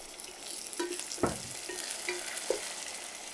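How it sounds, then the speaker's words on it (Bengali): Onion, ginger-garlic paste and tomato masala cook in a pan after water goes in, giving a soft low sizzle with a few stirring scrapes and knocks. "একটু পানি দিয়ে দিব।"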